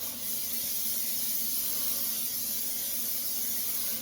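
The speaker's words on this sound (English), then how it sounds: "spraying a little bit of olive oil on the bottom of it so nothing burns" A steady, fairly quiet aerosol hiss of olive oil spray runs continuously for a few seconds, like a spray can held down over a pan.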